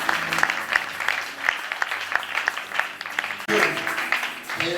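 A church congregation at a Sunday worship service applauds and cheers for Jesus, producing steady, dense clapping mixed with crowd voices throughout, with a brief dip and a louder surge near the end.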